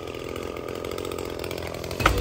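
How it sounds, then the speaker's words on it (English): Weed whacker running at a distance, a steady buzzing engine drone under outdoor sounds, with a brief thump near the end. "She doesn't really like the weed whacker"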